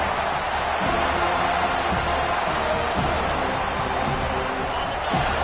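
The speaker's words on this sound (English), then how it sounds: "Decibels rising as the crowd gets behind this defense on 3rd down." A stadium crowd at a college football game swells into a loud, steady roar on third down, a dense wall of noise broken by a few faint thumps.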